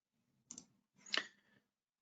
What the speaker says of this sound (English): And I'm clicking through these steps here.